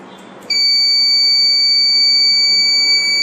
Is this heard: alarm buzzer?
yes